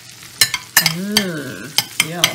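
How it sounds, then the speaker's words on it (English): Cherries frying in hot butter in a pan, a steady soft sizzle broken by stirring scrapes and clinks, with a voice murmuring approval over the cooking. "Oh, can you hear them? Yeah. Sizzling. That's lovely. That's a lovely sound."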